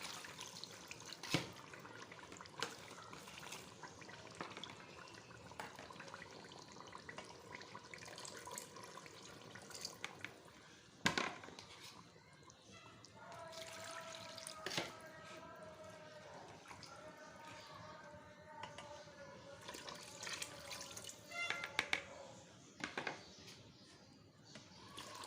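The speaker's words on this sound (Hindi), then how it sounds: "पानी शामिल करूँगी मैं इसके अंदर" Water poured into a cooking pot of onion paste while making beef kofta curry on a stove, a splashing, trickling pour that comes and goes, with a voice talking at intervals over it.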